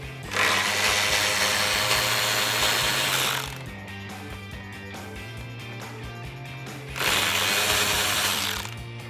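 Power socket driver undoing the tail light nuts on a 2010-2012 Mustang whirs in two loud bursts, separated by a quieter stretch of lower mechanical hum and clicking, all close up.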